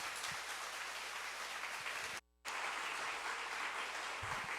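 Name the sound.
church congregation applause welcoming the pastor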